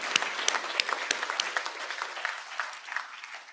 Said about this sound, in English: Let's give them again a big round of applause.